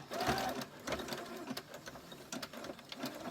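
A sewing machine running a zigzag stitch on a bra hook, a close, steady mechanical whir with rapid needle clatter, briefly pausing and resuming, with no talking.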